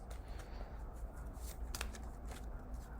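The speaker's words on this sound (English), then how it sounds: "And then we're gonna shuffle from this." Tarot cards are shuffled by hand in quiet, repeated riffling and sliding strokes, close up and soft, with one brighter flick near the middle.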